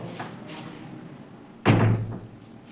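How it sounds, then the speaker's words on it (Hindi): A classroom door is shut before a physics lesson, a single solid thud following a faint rustle and brief movement noises, fairly close and with no talking. "पहले बंद कर दीजिए, दरवाज़ा बंद कर दीजिए।"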